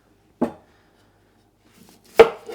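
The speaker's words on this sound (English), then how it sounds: "So I'm just gonna cut some onions in" Two separate knife chops through onions being cut into large pieces, sharp and close, with a long quiet gap between the first stroke and the second.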